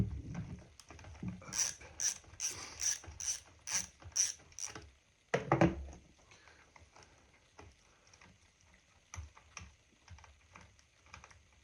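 Ratchet wrench loosening the positive battery terminal nut on a Honda Varadero 1000 motorcycle: a quick run of about seven sharp clicks, then a louder clatter as the part comes free, followed by quieter handling noises, close up with no talk.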